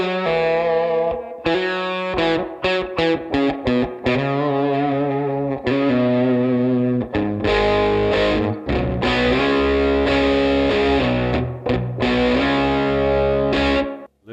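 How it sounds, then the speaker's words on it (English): Electric guitar played through a Headrush Flex Prime with a spring reverb effect, loud and alone, with slightly distorted chords and single notes in short bursts and pauses, then sustained ringing strums with a lingering reverb wash. "Let's just go with the spring reverb."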